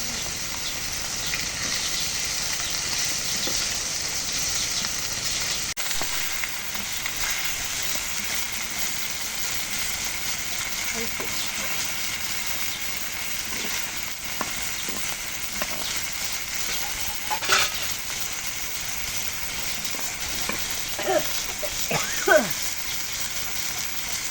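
Silver carp pieces frying in a pan, a steady broadband sizzle running throughout with occasional pops and crackles, while people talk nearby.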